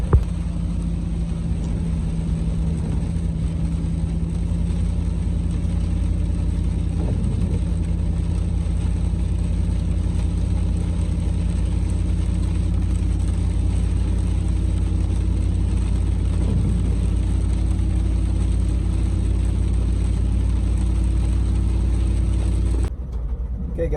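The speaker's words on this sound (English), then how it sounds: "I'm gonna drive to the gym real quick" Steady, loud low rumble of a car engine while driving on the road, an even drone with a few faint mechanical knocks and a brief drop near the end.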